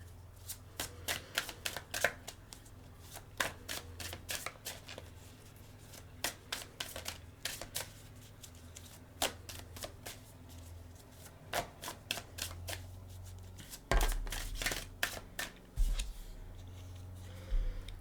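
Tarot cards being shuffled, with crisp rapid riffles and sharp snapping bursts repeating in uneven clusters, close and fairly quiet, with no voices.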